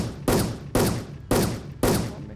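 Four heavy gunshots from a Wolfteam online shooter fire one after another at an even pace, each a sharp loud crack with a ringing tail.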